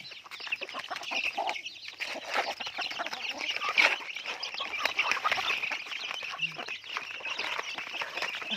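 A flock of chickens clucks and chatters busily at feeding time in a garden, a dense, close, continuous din of calls with a person speaking briefly amid it.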